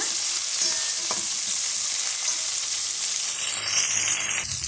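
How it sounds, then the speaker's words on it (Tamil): Curry leaves and onions sauté in hot oil for ladies finger kara kulambu, a loud continuous sizzle with a few spoon scrapes mixed in. No voices are heard. "இதையும் சேர்த்து நல்லா வதக்கி விட்டுக்கலாங்க."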